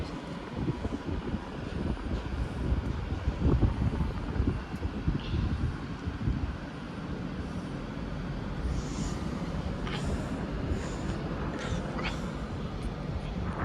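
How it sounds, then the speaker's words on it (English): Train arriving at a platform in Manchester Piccadilly station, a low rumbling roll that builds and then settles into a steady hum, with wind noise and faint higher squeals and clanks from the wheels later on. "Train arriving on platform 7 is your late 11 next northern service to Stoke-on-Trent."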